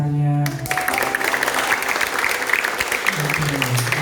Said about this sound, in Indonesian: boleh dong berikan tepuk tangannya